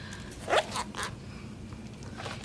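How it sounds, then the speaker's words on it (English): Scissors snipping away excess paper while covering a book, a few quick close cuts in a quiet room, with no voices. "I'm going to go ahead and I'm going to cut a little bit of the excess off."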